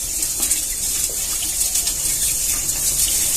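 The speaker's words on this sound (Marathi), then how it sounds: "छान असं पाणी मिक्स करून घेऊया हाताने" Water is swished by hand through coarse salt and turmeric to wash drumstick flowers and vegetables, a continuous close sloshing and splashing with small irregular swells and no talk.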